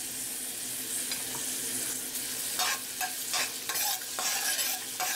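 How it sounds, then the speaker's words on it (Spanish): Half a medium onion sautéing in a pot for a dried-pea soup, a steady soft sizzle with several bursts of spoon-stirring scrapes in the second half. "Ahora lo que vamos a hacer es acitronar la cebolla."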